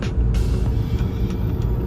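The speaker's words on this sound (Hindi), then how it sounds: "Just look at the traffic यार, सुपर ट्रैफिक है यार।" Jammed road traffic in Delhi produces a dense, close, low engine rumble with occasional brief higher bursts from passing vehicles. The sound is continuous and carries no speech.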